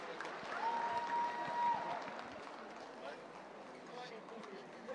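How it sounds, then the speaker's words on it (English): Audience applauding a cultural troupe's performance at a Nagaland cultural event, a steady crowd clapping that swells slightly then eases, with voices mixed in. "let's give the Konya Cultural Troupe a big round of applause for their wonderful"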